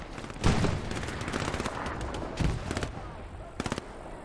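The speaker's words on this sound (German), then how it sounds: "Ich höre zumindest Schüsse von dort." Sharp bursts of Hell Let Loose gunfire crack out in quick succession over a noisy background, several shots clustered at intervals, with a synthetic game-like quality.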